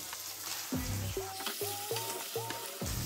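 Masala for a Telangana-style fish curry fries in a pan with a constant sizzle, while a series of four or five rhythmic spoon scrapes and clinks against the pan sound close by.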